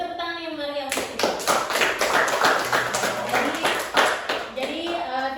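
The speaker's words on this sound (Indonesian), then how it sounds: "Beri tepuk tangan yang meriah untuk kita." A small group in a classroom presentation claps together in a lively burst of close hand claps, with children's voices and talk mixed in over the clapping.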